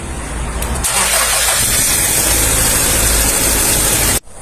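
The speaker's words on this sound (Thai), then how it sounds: "ทันทีที่คนขับรถนั้นสตาร์ทเครื่องยนต์" A car engine starts and settles into a steady, loud idle with broadband mechanical roar, the running sound holding for several seconds before cutting off abruptly near the end.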